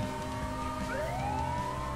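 Police car siren from GTA Online, a steady electronic wail rising in pitch over continuous engine and game background noise, with no voices.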